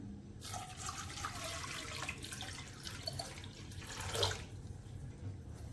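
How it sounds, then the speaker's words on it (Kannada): Water runs into a pot of washed lentils being readied for cooking, a soft continuous splashing pour lasting several seconds, fairly faint and close. "ಬೇಳೆಗೆ ನೀರು ಹಾಕೋಣ."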